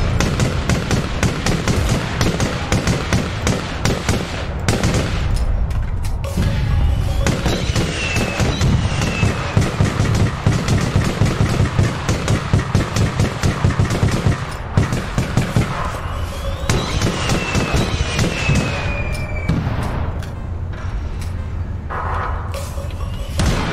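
Rapid gunfire from the online shooter game APB Reloaded during a criminal mission, dense bursts of shots crackling continuously and loudly, with brief lulls and a few whistling tones overhead.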